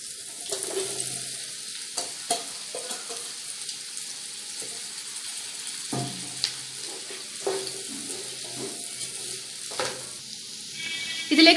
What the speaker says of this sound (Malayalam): ഇതിലേക്ക് നമുക്ക് 3 വലിയ സവാള നീളത്തിൽ അരിഞ്ഞതും കൂടെ ചേർത്ത് കൊടുക്കാം.